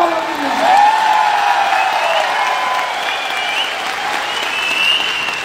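Audience applause at a business policy meeting, a sustained wash of clapping from a crowd that holds steady throughout, with a faint voice or tonal sound drifting over it.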